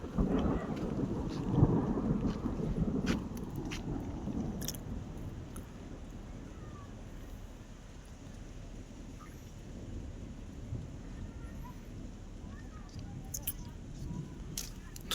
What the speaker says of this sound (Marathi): पाऊस यायला लागलाय